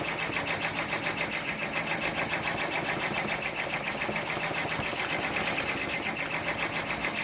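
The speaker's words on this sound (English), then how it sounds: "So it's laying down the underlay, of course, and stitching a little bit on the petals" An embroidery machine stitches the underlay of an organza sunflower coaster at around 600 stitches per minute, a steady fast mechanical rattling pulse, close and even throughout.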